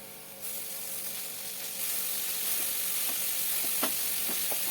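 Chopped tomato and capsicum fry in a hot pan for masala fried rice, a loud, steady sizzle that swells as the tomato goes in, with a few light stirring clicks.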